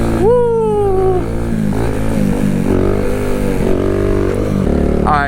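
A Kawasaki Z125 motorcycle fitted with new bars and a subcage revs hard in third gear during a wheelie, a loud, close engine note that climbs and sags in pitch, with a brief high squeal at the start.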